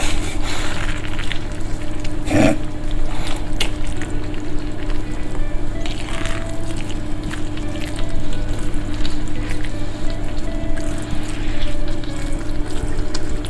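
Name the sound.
beans added to jambalaya in small saucepan, sizzling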